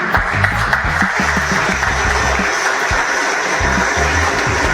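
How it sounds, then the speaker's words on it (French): An audience at a wedding and events fair in Mbuji-Mayi applauds a wedding planner, clapping steadily while low-pitched music or murmuring pulses underneath. "Sur vos applaudissements, bien sûr."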